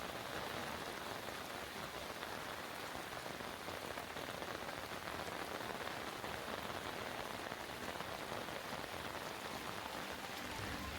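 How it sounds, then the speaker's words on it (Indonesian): Steady, dense rain pours down at Pura Tirta Empul temple in Bali, a continuous close hiss of drops hitting surfaces with no voices and no letup across the whole stretch. "Memang sudah hujan, tapi mungkin hujannya nggak sederas di Pura Tirta Empul"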